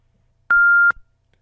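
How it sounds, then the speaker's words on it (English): One steady electronic voicemail beep, clear and fairly loud, lasting under half a second with silence around it. "Please leave a message at the beep."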